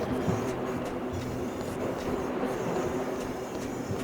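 A roller coaster cart rumbles overhead in a video game, a continuous low, steady rolling drone with faint rattling, even in level throughout.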